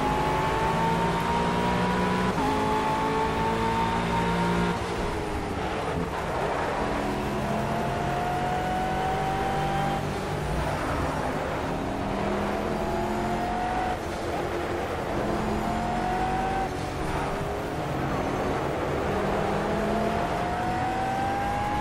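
McLaren 12C GT3 race car engine in the Project Cars racing game at the Nordschleife, a loud continuous high-revving roar that climbs and drops through gear shifts for the whole stretch, with faint tire squeal and no talking.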